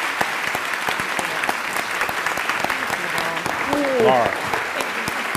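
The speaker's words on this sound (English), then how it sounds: "Ladies and gentlemen, let's give a big round of applause for Ms." A Pentagon audience applauds Sheryl Sandberg with steady, dense clapping throughout, while a voice speaks briefly over the applause partway through.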